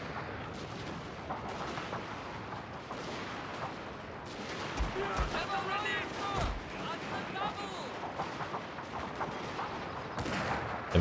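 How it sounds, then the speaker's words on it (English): Gunfire from troops firing down from a wall in the video game Total War: Shogun 2, Fall of the Samurai, at Aizu: scattered booming shots and crackling volleys at mid distance under a voice speaking. "And now we can fire down onto them"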